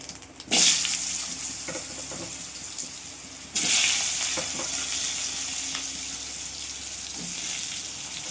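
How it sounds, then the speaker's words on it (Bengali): Potatoes and eggplant drop into hot oil with black cumin, bursting into loud sizzling that settles into a steady fry, with a second surge as more pieces go in and occasional stirring clinks; no talking. "এবার আলু বেগুনগুলো ভেজে নেব"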